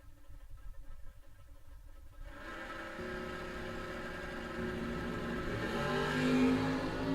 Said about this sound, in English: Good drag race side by side there.